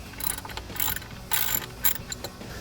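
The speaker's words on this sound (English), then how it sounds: "It might help if we loosen up this bolt a little bit, just so it turns a little easier." Ratchet loosening a bolt during a RedRock cold air intake install on a 2007-2011 Toyota Tundra, several bursts of rapid clicking pawl strokes, close and crisp, with no talk.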